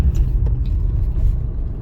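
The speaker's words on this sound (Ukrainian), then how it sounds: "У мене механічна коробка передач, зараз я на третій передачі, швидкість 45 км на годину" Interior of a manual-transmission car in third gear at 45 km/h, engine near 1800 rpm, on a practical driving test route; a steady, close low rumble of engine and road noise with no talk.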